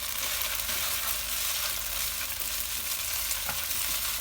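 Singapore noodles fry with vegetables in a hot pan, a continuous close sizzle with crackling pops and light stirring scrapes, no voices.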